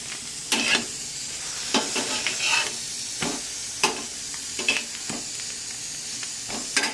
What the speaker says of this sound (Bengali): ডিমটা প্রায় ভাজা কমপ্লিট।